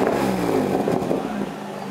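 An Acura RSX engine revs briefly with a steady, loud mechanical roar throughout, its note easing slightly toward the end, heard alone without talk.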